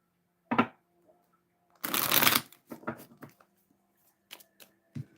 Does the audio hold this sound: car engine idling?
no